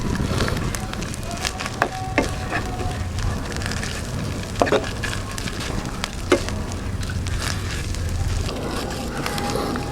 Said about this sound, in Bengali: এখন এটাকে ভালো করে কষাইতে হবে।